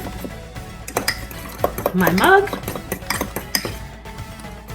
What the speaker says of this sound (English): And I'm gonna get in my mug and I'm gonna mix it all up.